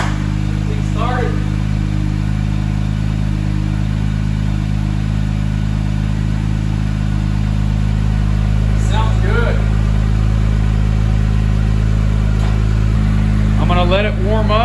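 A wrecked 2019 Acura NSX running at a steady, loud idle right after starting, its deep engine drone continuous throughout while people talk over it.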